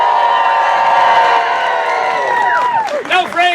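A theater audience at a Shakespeare performance cheers, hoots and claps loudly and continuously, with crowd shouts and rising whoops layered over steady applause.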